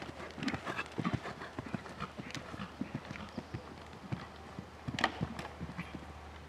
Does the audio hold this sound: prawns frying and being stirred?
no